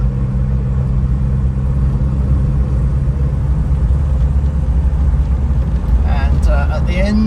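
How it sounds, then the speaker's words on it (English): A Morris Minor's engine and exhaust rasp out a steady, loud low rumble that holds throughout, with some brighter engine noise building near the end. "that lovely rasp from the Morris Minor exhaust"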